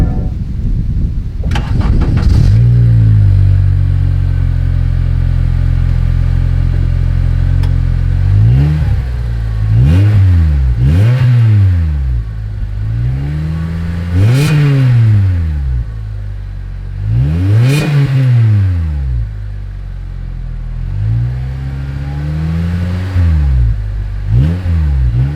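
An 06 Acura TSX fitted with a Mugen titanium sports exhaust and JS Racing intake starts up, then revs repeatedly in sharp rising-and-falling blips over a steady idle, loud and close.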